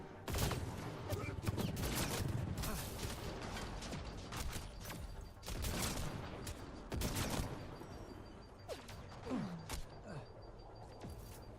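Gunfire in the video game Mass Effect Andromeda during a fight with outlaws, sharp repeated bursts and single shots at close range, mixed with mechanical clicks and creaks, dense at first and thinning toward the end.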